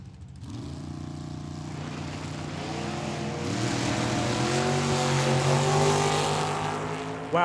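Drag racing cars, including a Camaro for Team Mexico, launch and roar down the strip, engines climbing loudly through rising pitch with gear changes, sustained and close at trackside.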